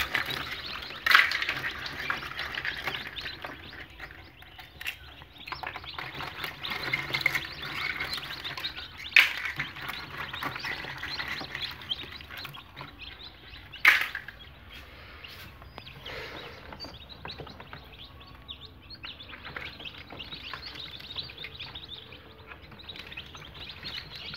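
Farm chicken chicks in an incubator chirp in a steady, dense chorus of high peeping, close by and continuous, with a few louder clicks and knocks from the machine standing out.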